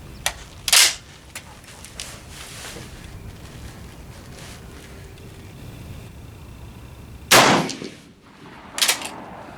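Reloaded rifle rounds with heavier powder charges fire at an outdoor range: three sharp, loud reports spaced several seconds apart, each with a short echoing tail over steady wind noise.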